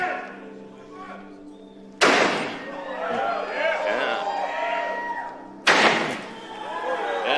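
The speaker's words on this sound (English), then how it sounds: "That car door holds up better than I thought a normal car door would hold up to a sledgehammer." A sledgehammer strikes a Tesla Cybertruck door twice, each a loud metallic slam with a ringing tail, and a crowd murmurs and talks between the blows.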